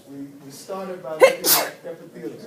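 A single sharp sneeze bursts out in a lecture room during a class on body tissues. It is loud and close, lasts about half a second, and is surrounded by a lecturer's ongoing speech.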